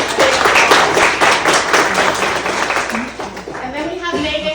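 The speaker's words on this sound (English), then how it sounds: "So let's give Nancy a big applause." Applause from a crowd, a dense patter of clapping that gradually thins out while a voice speaks over it.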